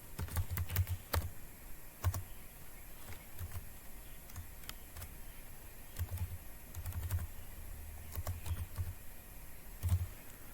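A Python print statement typed on a computer keyboard: quiet, close bursts of rapid key clicks separated by short pauses.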